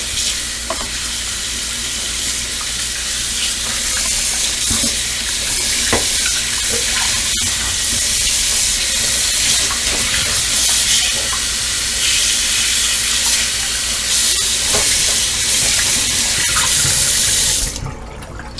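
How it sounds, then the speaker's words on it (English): Water runs and drains in a sink while knitted pieces are rinsed for wet blocking, producing a steady, close hiss of flowing water with small splashes and no talk. "And just drain the sink. And give it a good rinse."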